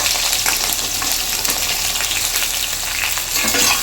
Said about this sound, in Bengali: নিয়ে হালকা করে ভাজা করবো